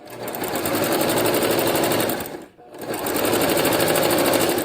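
A sewing machine runs a long straight-line quilting seam on a stabilized quilt, a loud, steady, fast mechanical whir that stops briefly midway and then starts again, close up.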